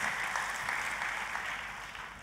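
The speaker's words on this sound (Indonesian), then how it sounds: "Tepuk tangannya yang paling meriah buat Tuhan kita" A church congregation claps together in a steady, dense wash of applause that stays even and fairly close throughout, with no talking over it.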